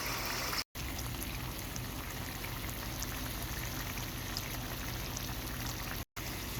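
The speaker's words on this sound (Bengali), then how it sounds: "মাংসটা ভাজা হয়ে আসলে অ্যাড করবো পানি" Water goes into beef frying in oil for beef karahi, a continuous sizzling, bubbling hiss that holds steady, broken by two very short gaps.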